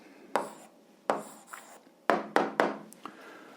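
Pen scratches across paper as an algebra answer is written by hand, several short separate strokes and taps, close and quiet with pauses between them.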